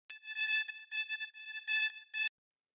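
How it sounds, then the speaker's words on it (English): A granular synth in Ableton Live plays a chopped vocal stab, a bright tonal sound with stacked harmonics. It stutters through several short bursts over about two seconds and then stops cleanly. "So the next sound we have is this little granular synth"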